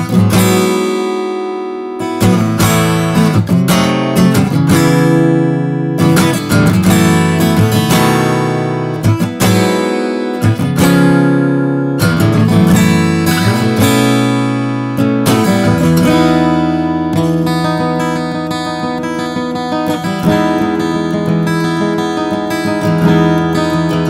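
A Martin 000C-1 acoustic guitar played unamplified, continuous bright strumming and picked chords ringing steadily and loud at close range, with no talking.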